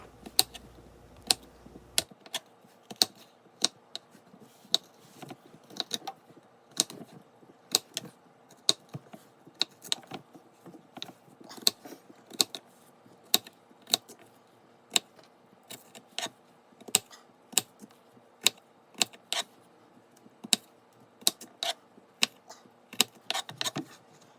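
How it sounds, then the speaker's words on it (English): A knife cuts a potato into a flower-shaped decoration, producing sharp, quiet clicking cuts in an irregular steady series over a silent background. "cut along the side of the cut potato into looking it like a long flower"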